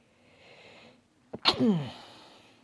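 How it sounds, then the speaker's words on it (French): A man sneezes once, sharp and close, after a quick inhale, and the sneeze trails off into a breathy release. "Alors là j'ai éternué."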